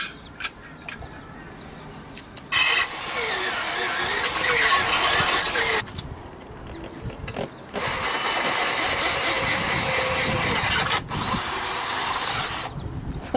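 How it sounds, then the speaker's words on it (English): A power drill whirs in long, loud bursts separated by short pauses, with some clicking and handling noises at the start. "Look at you use that drill."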